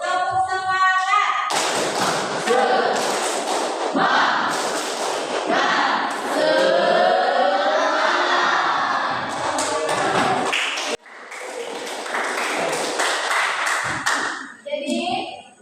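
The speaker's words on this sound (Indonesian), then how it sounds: "Semangat dulu, tepuk semangat" A group claps a rhythmic 'tepuk semangat' pattern in an Indonesian teacher-training session, sharp repeated claps and taps in a set rhythm while voices chant along loudly throughout, with a brief dip in the middle.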